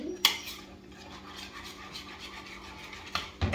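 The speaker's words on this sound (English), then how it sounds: "We're going to just whisk that up real good." Eggs are whisked by hand in a pot for pasta carbonara, a steady scratchy scraping rub with sharper metallic clinks of the whisk against the pot near the start and end, close and moderately loud.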